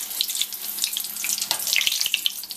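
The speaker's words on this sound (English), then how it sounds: "what I'm going to do is I'm going to deep fry them" Bread deep-frying in very hot oil gives a dense, bright hiss and crackle, steady and close throughout with no voices.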